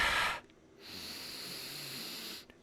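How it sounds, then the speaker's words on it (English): Someone sniffs essential oil from a close inhaler, a sharp breathy intake and then a longer steady airy draw, with nothing else heard. "sniffing things"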